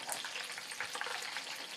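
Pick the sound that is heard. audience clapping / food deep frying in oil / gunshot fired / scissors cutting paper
food deep frying in oil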